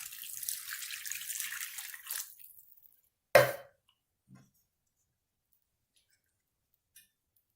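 Water pours from an emptied tomato tin into an adzuki bean and lentil casserole as a close, hissing splash for about three seconds. A sharp clunk follows as the tin is set down, then a couple of faint knocks and near silence.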